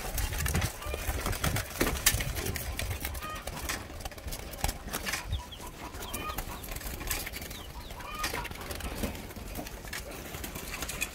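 Soft cooing from young doves and bird rustling nearby, with some wing flutters and someone talking over them.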